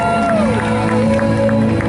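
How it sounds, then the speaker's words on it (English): A crowd of spectators cheers and shouts along the shore at a church cardboard boat regatta race, a loud, dense wash of voices with whoops rising over it, continuous for the short stretch. "Let's cheer them on."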